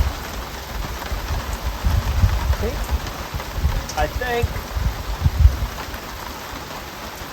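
Heavy cold rain falling steadily at an off-grid workshop build site, a dense close hiss with irregular louder gusts, while someone says a couple of words midway.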